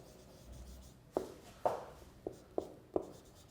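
Strokes of writing on a board during a classroom lecture: five crisp, separate scratches or taps spaced about half a second apart, fairly close and clear over a quiet room with no talking.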